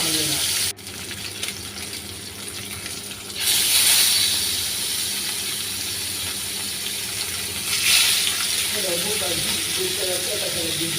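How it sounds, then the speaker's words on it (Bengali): Spiced rohu fish pieces go into hot soybean oil, raising a steady broad sizzle that surges loudly twice as more fish is added, with a voice briefly heard near the end. "এখন মা মশলা মাখানো মাছগুলো তেলে ছেড়ে দিচ্ছে"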